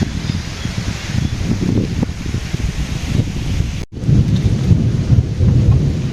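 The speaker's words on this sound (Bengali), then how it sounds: "এখন বৃষ্টি পড়তেছে ঘুরে ঘুরে" Heavy rain pours steadily with low rumbling thunder, a brief dip midway before the downpour resumes loudly; no one speaks.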